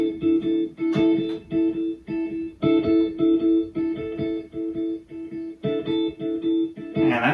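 Guitar loop voiced in fourths through a ping pong delay: a repeating pattern of clean plucked notes with echoing repeats, steady and mid-loud, with a brief noisy swell at the end.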